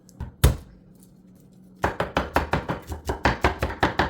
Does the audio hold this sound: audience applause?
no